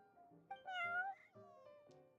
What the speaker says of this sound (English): I don't think the cat's actually saying anything.